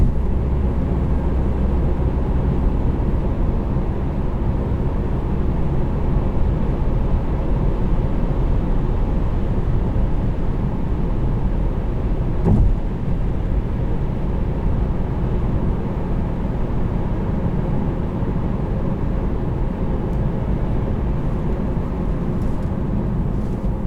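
A 2016 Volvo S60 T5 Premium base engine pulls hard under acceleration, a steady loud in-cabin drone of engine and road noise that holds throughout, with one brief knock partway through.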